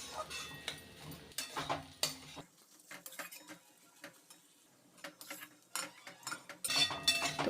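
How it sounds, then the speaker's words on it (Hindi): A spoon scraping and clinking against a pan while potato masala with garam masala is stirred, irregular metallic taps and scrapes close up, fairly quiet, with short pauses between strokes. "अब एक बार फिर से चला लेते हैं"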